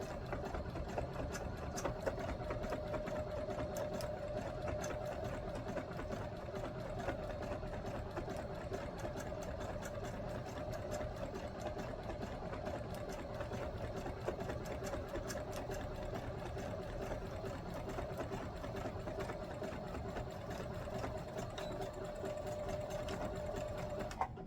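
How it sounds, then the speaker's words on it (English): Sewing machine stitching fabric pieces together for Christmas sewing, a steady fast mechanical whir and needle chatter running continuously at close range with no pauses. "I'm just going to continuously just sew all of these together."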